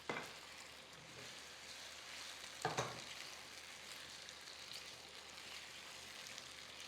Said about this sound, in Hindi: हम अरवी को शैलो फ्राई कर रहे हैं, डीप फ्राई नहीं कर रहे हैं